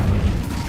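An Incendio fire spell from Hogwarts Legacy bursts out as a brief, loud, low whooshing boom, heavy in the bass and heard alone.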